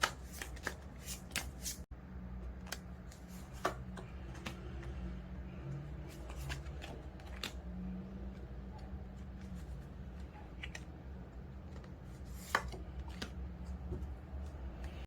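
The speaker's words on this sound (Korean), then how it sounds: "어떻게 하면은 조금 더 좋은 연애를 할 수 있을지 여러분에 대한 조언의 카드를 3장 뽑아보도록 할게요" Tarot cards shuffled and drawn make a steady soft riffling with scattered sharp card snaps. It sits close and quiet over a low room hum, with no one speaking.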